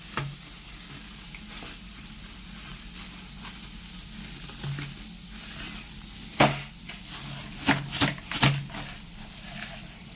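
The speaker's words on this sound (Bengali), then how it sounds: "তো এখানে আমি গোস্তটা ঢেলে নিই" Beef being cooked in a hot pan gives a soft, steady sizzle, with a few louder stirring scrapes and clatters toward the end and no talking.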